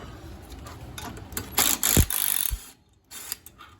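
Impact wrench bursts on a riding mower that runs but won't move forward or reverse, two or three loud rattling hammering blasts close by, separated by short pauses and low mechanical clatter.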